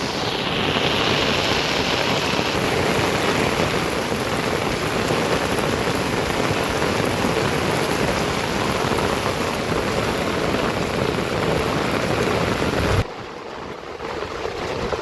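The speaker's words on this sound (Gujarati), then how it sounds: "સવારનો વરસાદ શરૂ છે" Heavy monsoon rain pours onto a flooded farm field, a dense roaring wash of drops that stays loud and unbroken before dropping suddenly near the end.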